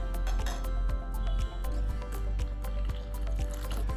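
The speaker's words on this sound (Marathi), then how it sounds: "आता हे जरा दाटसर आहे म्हणून आपल्याला यामध्ये थोडंसं पाणी टाकायचं" Water is poured into a thick, strained green moong soup, giving a steady liquid splashing and filling sound over about four seconds, with small drips and squishy bursts repeating throughout and no speech.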